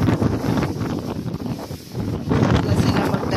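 Strong gusts of wind in the aftermath of a typhoon buffet the microphone on a rooftop, a steady loud roar that swells and eases, with no voices over it.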